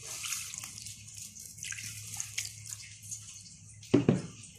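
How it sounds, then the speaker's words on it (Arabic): Warm water trickles gradually into flour for bread dough, a faint, close pour and drip, ending in a brief, louder splash. "هبدا بقى احط الميه الدافيه شويه بشويه"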